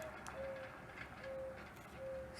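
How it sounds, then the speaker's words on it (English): A mourning dove coos softly in the distance, a few faint, drawn-out tonal notes repeating at a slow steady pace over a quiet low background hum. "I don't know if you heard that mourning dove."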